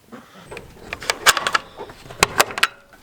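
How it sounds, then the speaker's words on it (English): Backyard birds, likely chickens, make short clucks and chirps in scattered bursts, fairly close, among faint rustling and knocking sounds. "Hello, all my other beautiful birds."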